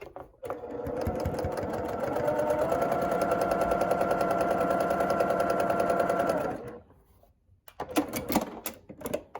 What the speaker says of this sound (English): let's go ahead and put a 1/4" seam on